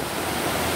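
Heavy rain and rushing floodwater, a dense, steady hiss and roar that fills the scene evenly, with no voices.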